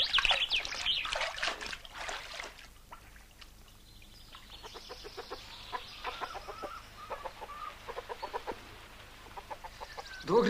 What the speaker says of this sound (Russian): Куда ты эту курицу тащишь?